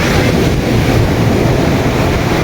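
Sea waves crash along the shore at Somnath in Gujarat, a loud, continuous roar of surf blended with heavy wind noise on the microphone.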